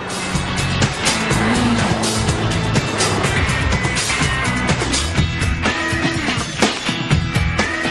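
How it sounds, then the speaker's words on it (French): A 135 hp Fiat 500 Abarth engine pulls hard under acceleration, a loud, steady, dense roar that holds through the whole stretch with a few sharp transient peaks. "l'italienne montre tout son potentiel avec un moteur qui lui sied à ravir"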